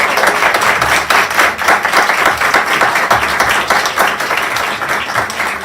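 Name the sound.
applause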